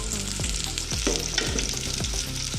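Long-sliced onions fry in hot oil for beef pulao, giving a dense, steady sizzle with occasional stirring sounds and recurring gliding tones in the background.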